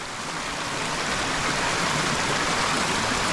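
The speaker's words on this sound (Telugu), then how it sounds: "చూసారు కదా ఇంకా అలా జలపాతాలు ఎన్ని ఉన్నాయో" Rushing water from streams and waterfalls in rain-soaked hills near Srisailam dam, a steady broadband roar that swells slightly and stays loud and unbroken throughout.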